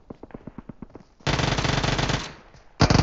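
Gunfire in the mobile battle-royale game PUBG Mobile: a string of quick single shots, then a long loud automatic burst and another burst starting at the end, heard alone without talk.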